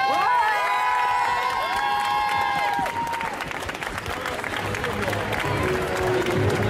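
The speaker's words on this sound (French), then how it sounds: "on va faire un tonnerre d'applaudissements pour Rogue" Loud applause and cheering from a crowd at an indoor cosplay contest for a Rogue cosplayer, with whoops and shouts over steady clapping and a tonal music or effect fading out early.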